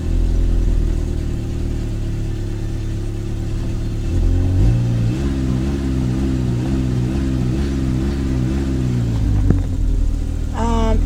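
A Chevrolet Nova's engine rumbles steadily and close, then begins to waver and stumble unevenly once the gas is released, showing a carburetor that needs cleaning. Nobody speaks.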